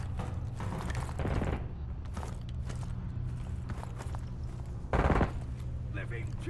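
Gunfire in the video game Call of Duty Warzone, with rapid bursts of shots and mechanical clatter over a continuous low rumble, one louder burst near the end, with a voice talking in the mix.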